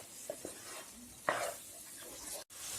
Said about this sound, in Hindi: इसे भी मिक्स करके अच्छे से भून लें।